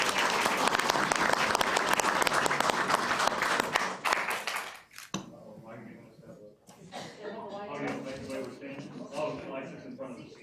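A city council meeting audience breaks into loud applause and cheering for Parks and Recreation, dense clapping that cuts off after a few seconds, followed by murmured talk and light chuckling nearby.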